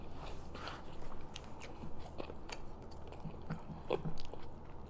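Someone bites and chews hot water cornbread up close, soft crunches and moist chewing sounds repeating irregularly throughout, with no talking.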